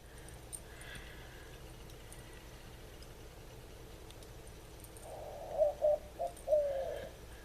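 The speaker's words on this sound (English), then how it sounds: "I think it's one of the Puerto Rican doves." Puerto Rican dove cooing outdoors, a few soft, low hooting notes in a short broken phrase toward the end, moderately close over a quiet background.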